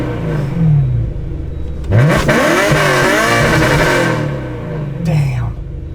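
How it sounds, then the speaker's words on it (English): A Liberty Walk BMW E92 M3 engine revs inside the car, one loud rising blip around mid-clip over a steady idle rumble, with a voice talking before and after. "we'll give it a couple of revs."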